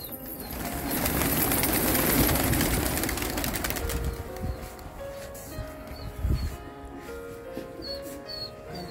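Racing pigeons cooing and rustling outdoors in Delhi, with a burst of wing flapping early on and soft bird calls continuing against a steady background.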